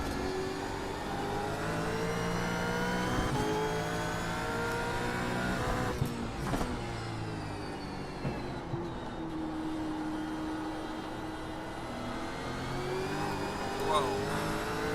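A race car engine in the iRacing simulator drones steadily at high revs for the whole stretch, with shifts and pitch swings between gears, while people talk over it.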